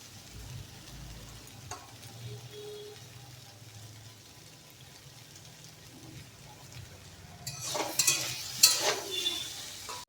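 Taro stolons fry in a pan at home with a quiet, low sizzle, then a few louder scraping stirs and crackles near the end.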